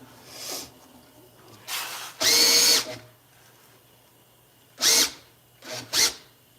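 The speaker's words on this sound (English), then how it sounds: "That's what I don't want to happen with this ice fishing auger, because it's going to be going at a higher RPM too" A drill spins a homemade ice fishing auger in several short bursts of whirring, a few brief runs separated by quiet gaps, heard close up.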